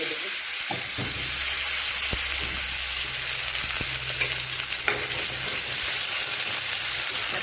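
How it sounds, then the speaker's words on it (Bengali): Cumin seeds and a few dried red chillies sizzling in hot oil for tempering a mixed vegetable dish, a loud steady hiss and crackle with occasional faint clinks of a utensil, no talking. "এখন ফোড়নে জিরে আর কয়েকটা শুকনো লঙ্কা দিলাম।"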